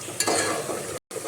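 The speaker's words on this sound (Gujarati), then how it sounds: "અહીંયા તપેલામાં શાકનો વઘાર કરી નાખ્યો છે" Vegetable curry tempering sizzles in a pot over a home stove, a close, bright frying hiss with stirring scrapes that briefly cuts out before resuming.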